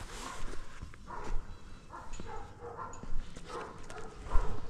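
A dog barks in short scattered bursts over a busy indoor background with light clatter, at moderate distance.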